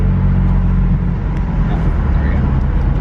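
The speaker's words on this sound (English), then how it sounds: "Oh wow, the exhaust quieted down so much." BMW M4 F83 convertible exhaust drumming low and steady during city driving, a continuous engine rumble with road noise and people talking over it throughout.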